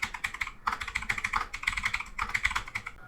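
Quick typing on a computer keyboard, close and clear, with steady clusters of light keystroke clicks in short bursts separated by brief pauses and no voices.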